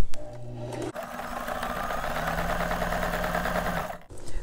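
A sewing machine stitches elastic into a garment, its needle running in a fast, even mechanical whir for several seconds, with short stops and starts at each end.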